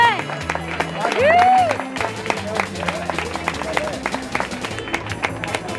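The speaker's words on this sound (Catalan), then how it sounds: "Un aplaudiment per l'Isidre." Crowd applauding the winner at a local race prize ceremony, an 81-year-old runner back on the podium; steady clapping and cheering with a lively crowd under loud music, while a speaker talks over it.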